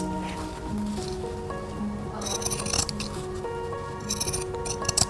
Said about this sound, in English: now I'm just going to pink the edges to get rid of the bulk